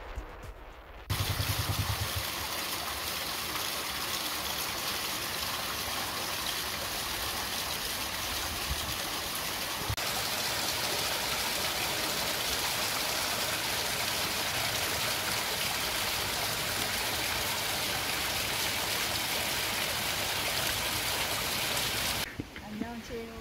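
Steady, heavy rain hisses continuously outdoors in Da Nang, Vietnam, a dense wash of noise that holds without pause before cutting off at the end.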